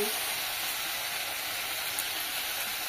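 Slit green chillies hit hot oil in a pan while cooking a village-style kochu flower dish, giving a loud, dense, continuous sizzle that holds steady throughout, close up with no talk.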